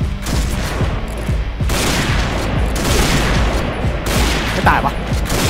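Rapid sniper and rifle fire from the Point Blank video game, with a PSG1 sniper rifle in use, cracks and booms continuously through dense in-game combat noise while someone talks over it.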